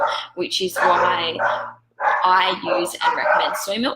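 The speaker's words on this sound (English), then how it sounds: "excuse the dogs that you can probably hear in the background" Dogs bark in the background beneath someone speaking steadily up close, the barking mostly masked by her voice.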